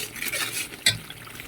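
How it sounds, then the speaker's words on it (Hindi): Chicken yakhni stock is poured into a pot of rice, giving a brief liquid splash and soft trickle amid faint kitchen clatter, with no talking. "अब हम जो यखनी हमने बनाई थी वो हम इसमें डाल देंगे"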